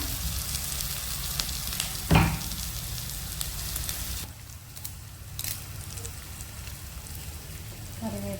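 Curry leaves hit a hot pan with a sharp burst of sizzling, then a steady crackling fry that dips quieter midway, heard close.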